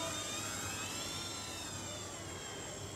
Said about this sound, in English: You can hear that the motor are spinning less faster with this seizing props.